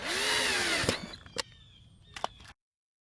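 A power drill drives two screws to refit the center console latch on a Honda Pilot. A close, whirring motor whine runs for about a second, followed by a few short clicks and bursts before the sound stops abruptly.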